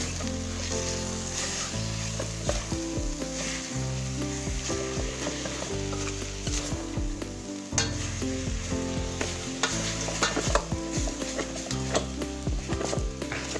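Field rat curry being stir-fried in a pan with chili, a steady oily sizzle with repeated scraping and clattering stirs throughout, close and fairly loud, alongside a faint musical background.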